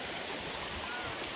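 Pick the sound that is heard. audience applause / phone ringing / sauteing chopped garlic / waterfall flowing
waterfall flowing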